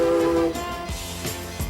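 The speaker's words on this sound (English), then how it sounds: "Whistles for each street crossing are answered by waves from townspeople all along the track." A narrow gauge steam train on the Durango & Silverton line sounds its whistle at a downtown street crossing, a loud sustained tone that cuts off, followed by rhythmic chuffing beats.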